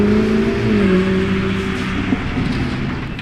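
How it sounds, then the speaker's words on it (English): A Lamborghini Urus SE revs and sweeps past, its engine drone loud and close, pitch sliding downward as it goes by and fading slightly toward the end. "That is another Urus SE!"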